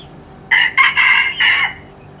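A single loud rooster crow rings out close by, a broken series of bright calls lasting about a second, with quiet surroundings.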